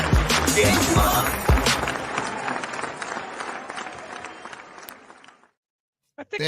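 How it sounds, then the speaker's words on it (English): A crowd at a retro gaming show cheers and applauds loudly for Glenn's arrival, with dense clapping and shouts that stay strong for about five seconds and then cut to silence. "The crowd is going wild."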